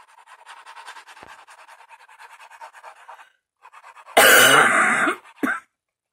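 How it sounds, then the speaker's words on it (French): A woman doing a snowman craft with paper and glue coughs once, loud and close, followed by a short second cough. Before that come faint scratching and rubbing sounds of paper work. "J'ai pas fini de vous tousser au nez."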